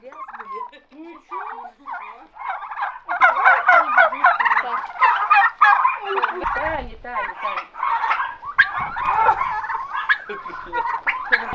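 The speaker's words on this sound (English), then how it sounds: "so let's take a look at the turkeys" A flock of young turkeys gobbling and chattering continuously on a Russian countryside farm, loud and close, with overlapping warbling calls and no talking.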